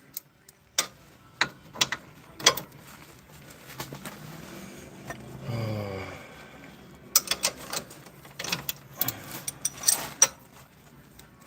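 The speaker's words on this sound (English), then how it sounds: "Of course I had to use a double ratchet." Double ratchet wrench working on a rear control arm bolt of a 2018 Ford Escape. It gives sharp, irregular clicking bursts of several quick ticks each, close and fairly loud, with a brief low grinding rumble midway and no talking.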